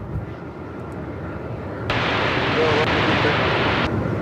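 A Jetstar airliner taking off for Perth at Melbourne Airport in strong wind, a low engine rumble that suddenly swells into a loud, sustained broadband roar partway through.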